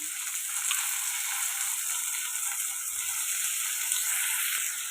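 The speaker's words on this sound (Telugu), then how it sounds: "ఇప్పుడు ముందుగా కట్ చేసి పెట్టుకున్న బంగాళదుంప ముక్కలు అయితే వేసేసుకోండి" Cut potato pieces go into a hot frying pan: a soft, steady hiss and crackle of frying continues at moderate distance for the whole stretch, with no speech.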